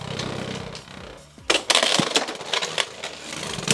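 Beyblade X spinning tops are launched one at a time into a stadium. A clattering burst follows, with sharp clashes and scraping hits, loud and close.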